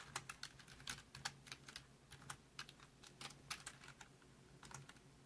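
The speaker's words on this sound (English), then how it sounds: "I'm thinking I'm typing something and I'm not." Rapid bursts of keystrokes on a computer keyboard, uneven in rhythm with short pauses, fairly close and alone over a faint low hum of a gaming PC.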